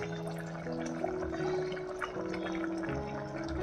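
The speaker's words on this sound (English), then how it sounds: "Add the juices that were squeezed from the spice potli and discard the debris of the spices." Squeezed spice juices poured into a cooking pot for chickpea curry, giving a soft, steady trickle and splash of liquid that runs for a few seconds at low volume with no talking.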